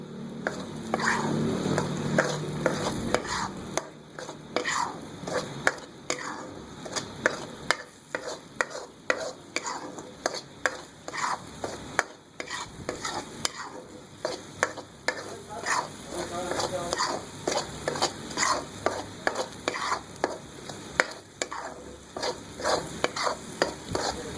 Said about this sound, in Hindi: चमचा मुस्तकिल चलाना है, रोकना नहीं है आपको, नहीं तो ये चिपकने लगता है।